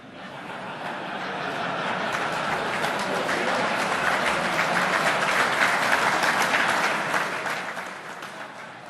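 An awards-ceremony audience at a national HEA awards event at Celtic Manor, South Wales, claps in a broad, steady round that swells and holds for several seconds, then starts to fade.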